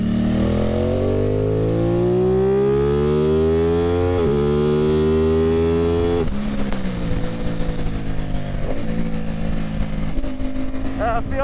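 An Aprilia Tuono 660 with an aftermarket eBay exhaust revs hard through the gears, the engine note climbing, dropping at shifts around four and six seconds, then pulling again, loud and close with wind rush behind.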